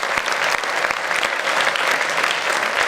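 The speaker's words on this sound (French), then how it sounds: "Des applaudissements pour Sylvain Cesson" Dense, sustained applause from an audience at a 2018 awards ceremony in Aveyron as a medal winner is honored, a continuous even roar of many hands clapping.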